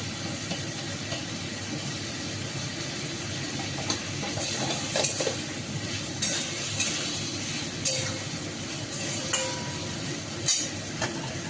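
Potato and pointed gourd added to spiced masala frying in a pan produce a constant sizzle and hiss, with occasional clinks and scrapes from stirring, close by.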